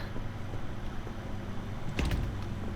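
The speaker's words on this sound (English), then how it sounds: "We're going to open that because we got shit to put in the trunk." A car trunk opening in the survival driving game Pacific Drive: a brief mechanical clunk and latch release, fairly close, over a steady low engine-like hum.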